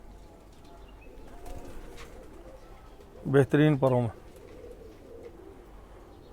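A Khaki Chua pigeon coos in a brief cluster of three loud, close calls near the middle of the clip, preceded and followed by quiet background sound with some soft speech.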